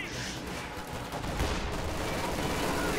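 A grenade explodes amid gunfire in the World War II strategy game Company of Heroes 2: a dense crackle of rifle and machine-gun shots, with a heavier burst partway through and a voice faintly underneath.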